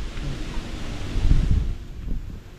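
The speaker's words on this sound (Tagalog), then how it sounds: "Lakas pa ng hangin." Strong, cold wind blows outdoors at a hillside house-building site, a steady low rumble that buffets the microphone with gusts swelling in the middle. No voices are heard.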